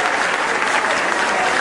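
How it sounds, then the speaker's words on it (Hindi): A live audience at a Hindi comedy poetry event breaks into loud, dense applause, a continuous close wash of many hands clapping. "आप एक बार जोरदार तालियां बजाएं,"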